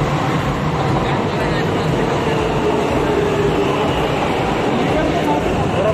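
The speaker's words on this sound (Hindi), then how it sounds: "दोस्तों मेट्रो आ रही है" A Delhi Metro train roars loudly and continuously into the station, a heavy rumbling wash of noise with a faint murmur of people beneath it.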